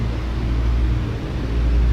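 A lorry rumbles past outside, a steady low drone heard from indoors with no one talking over it.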